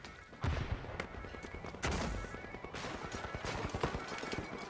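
AK rifle fire in the arena shooter The Finals, several bursts of rapid automatic shots with loud onset cracks followed by steady rattling fire, fairly close and without talking.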